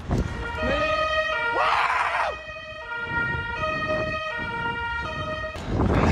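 Loud video game police sirens wail continuously with rising and falling tones, broken by a few harsh bursts of noise.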